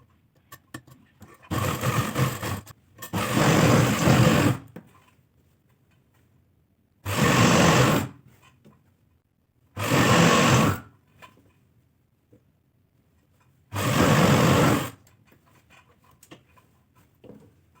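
A sewing machine stitching an Afghani salwar runs in five short bursts of whirring, each lasting one to two seconds with quiet pauses between, loud and close with no speech.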